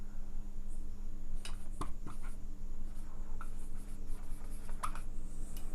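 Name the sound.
writing on a board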